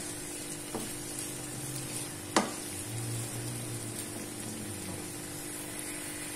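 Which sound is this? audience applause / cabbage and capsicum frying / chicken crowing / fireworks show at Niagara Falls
cabbage and capsicum frying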